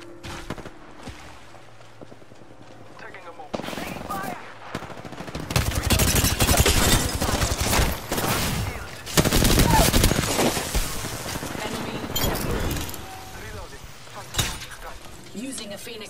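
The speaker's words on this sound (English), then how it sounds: "Taking fire!" Apex Legends gunfire starts sparse, then swells into bursts of rapid automatic shots and heavy volleys that come and go, loud and close, with a voice calling out over the fight.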